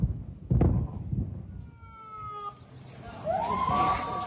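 Ambulance sirens arriving at Al-Aqsa Hospital in Gaza wail in rising and falling tones at middle distance, over a busy street backdrop with a loud thump near the start.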